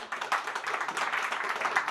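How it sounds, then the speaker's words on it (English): An audience at a panel discussion on a global crisis claps for the panelists, brisk and steady applause, close and moderately loud, with no voices over it. "Let's give a round of applause to our panelists."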